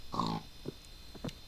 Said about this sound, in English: Hello, pig.